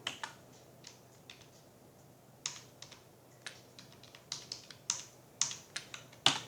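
Computer keyboard keys tapped while entering values into a tax form, a sparse run of light clicks in small irregular bursts, close and quiet.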